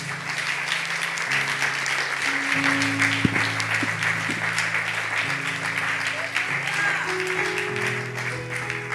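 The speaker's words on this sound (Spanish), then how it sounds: "Dele un aplauso al Señor Jesús." A church congregation applauds during a Spanish-language service, a steady wash of clapping with held organ or keyboard tones sounding beneath it.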